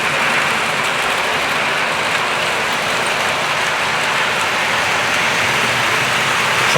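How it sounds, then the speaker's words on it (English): Model trains from Hornby, Triang, Bachmann, Heljan and Rapido run on a layout, giving off a steady, loud wash of wheel noise that goes on without a break and with no talk over it. "There's a lot of wheel noise."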